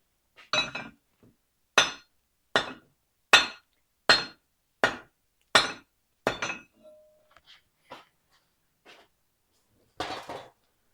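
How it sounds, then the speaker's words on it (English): A blacksmith's helper tool hammered on an anvil rings out in about eight sharp, evenly spaced metallic strikes, followed by a few faint taps and one last louder hit, with no talking. "So I wonder if I can hammer it down over on the anvil a little bit."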